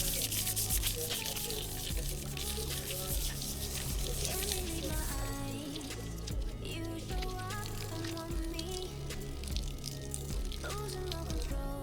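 Water splashing and trickling steadily as a car speedometer lens is rinsed with soapy water during scratch polishing, a close, continuous wet wash with small drips and splashes.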